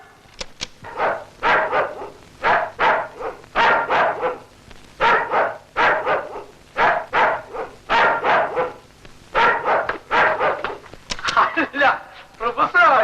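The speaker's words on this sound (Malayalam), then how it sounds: "ആ കടിക്കുന്ന പട്ടിയുണ്ട്," A dog barks repeatedly in quick, loud bursts through the whole stretch, with some yips and whimpers mixed in and a voice talking over it.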